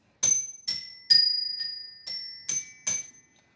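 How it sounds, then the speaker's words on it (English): A hand chime rung seven times in a steady series, each bright ringing strike decaying before the next, sounding close and alone. "Let me ring my chime so I can calm down,"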